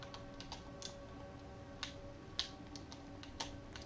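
Quiet clicking of a computer keyboard in Roblox Flee the Facility, light irregular taps over a steady background hum, with no voices.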